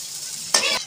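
Onions fry lightly in a pan with a soft, constant sizzle, broken halfway by one brief, louder stir of the spatula.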